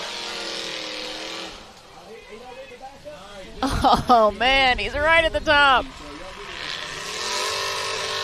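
Off-road race UTV engine revving hard at a bouncer and UTV racing event, a roaring motor at the start and end around excited commentary that fills the middle.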